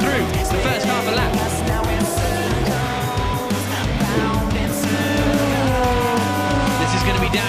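Formula 2 race cars roar around a track, engines loud and continuous with overlapping passes and pitch shifts, while a commentator talks over the racket.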